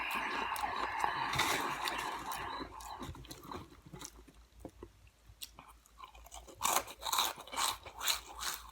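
Crunching and chewing of Flamin' Hot chipotle ranch Cheetos close to the mic, with irregular bites and crisp snaps that grow louder toward the end.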